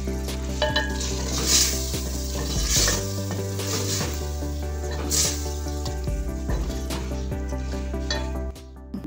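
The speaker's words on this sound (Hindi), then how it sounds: "अब इसको लो फ्लेम पे 5 से 10 मिनट तक फ्राई करना है।" Chicken pieces for a shahi korma fry in a pan over a low flame, with a steady close sizzle and repeated scraping clicks as a spoon stirs them throughout; no one speaks.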